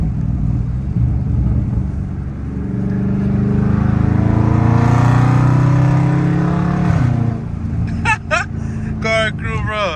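A Dodge Charger Scat Pack driven in valet mode accelerates, its engine rumbling and swelling in a steady pull before easing off, with someone talking over the drone inside the cabin.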